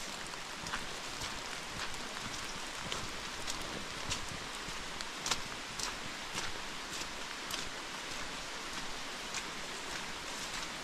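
Steady rain patters down outdoors, a dense, even hiss of drops with scattered sharper taps throughout, no voices.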